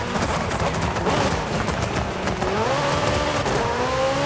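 A McLaren 765LT races in Forza Horizon 5, its exhaust roaring loud and steady throughout, with engine pitch rising toward the end as it accelerates.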